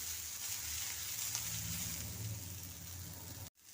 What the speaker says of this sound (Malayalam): ഇനി ഇതിലേക്ക് കറിവേപ്പില ഇട്ട് നമ്മൾ വഴറ്റി വെച്ചിരുന്ന സാധനം അങ്ങോട്ട് ഇട്ട് കൊടുക്കാം